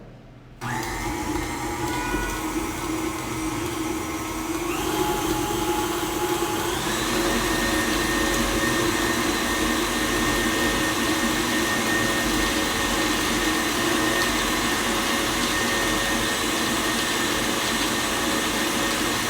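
Electric mixer whirring steadily as it beats cookie dough, switching on after a brief pause and then running loud and continuous, its pitch stepping up partway through, with no voices.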